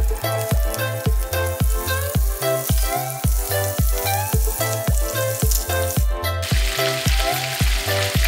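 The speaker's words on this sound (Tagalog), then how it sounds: "Sunod ay iprito ang mga pusit." Squid frying in a little oil in a pan, a loud crackling sizzle punctuated by a regular thumping rhythm about twice a second, close and continuous, easing to a steadier hiss near the end.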